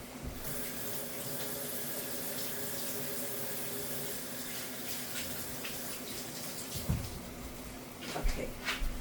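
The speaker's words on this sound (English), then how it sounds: "Let me wash my hand." Steady hiss of tap water running into a kitchen sink for hand washing while cooking Philly cheese steak, continuous and moderately quiet, with a few soft clunks and splashes near the end.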